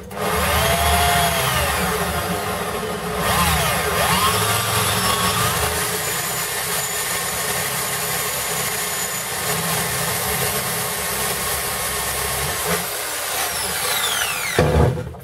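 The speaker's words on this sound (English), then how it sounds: "this is just to create a pilot hole, which will allow the actual drill to get a grip on things" A power drill drilling a pilot hole whirs steadily and loudly at close range for a long stretch, its pitch wavering as it bites, then winds down at the end.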